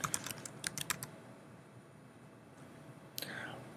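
Clicky keystrokes on a computer keyboard come in a quick irregular burst, then pause, then resume briefly, all faint and close in a quiet room with soft breathy voice sounds in the background.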